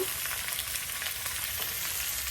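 Chopped onions sizzle loudly in a hot pan, a dense steady crackle with faint stirring scrapes, cooked village-style for a fish curry.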